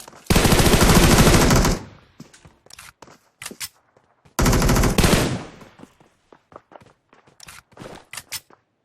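Gunfire in PUBG Mobile: two long, loud bursts of automatic fire, each lasting over a second, separated by sparse footsteps and small clicks in near silence.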